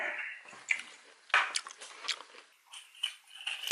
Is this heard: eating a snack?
yes